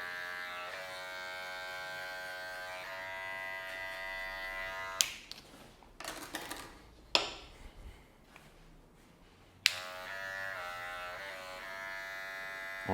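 An electric hair clipper buzzes steadily while cutting a man's fade haircut in a barbershop, its whine breaking off for a few seconds amid soft rustling and clicks before resuming.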